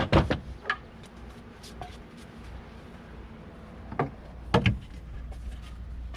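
Gear being stowed in a drawer inside a van, with a sharp knock and rattle at the start, softer bumps in between, then two clustered clunks of the drawer sliding and closing, close up with no talking.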